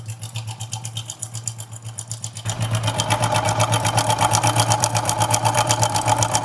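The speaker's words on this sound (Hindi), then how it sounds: "टाइमिंग चेन से देखिए किस तरह से झरझर का साउंड आ रहा है" A Hero Splendor motorcycle engine with a loose timing chain runs steadily nearby, its rapid metallic rattle and chatter growing louder after about two and a half seconds, with no talking.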